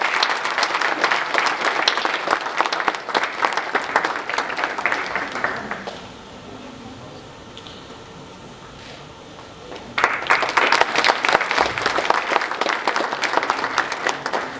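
Audience applause at an opening ceremony: dense, loud clapping from a large crowd that fades to a quiet lull for a few seconds, then bursts back in at full strength.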